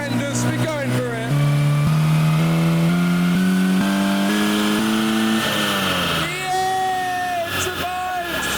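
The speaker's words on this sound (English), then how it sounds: "and that is the sound of a healthy Porsche 924." A Porsche 924 engine on a dyno climbs in a loud stepped rev through rising tones, then drops back and settles, with a crowd's cheering audible over it.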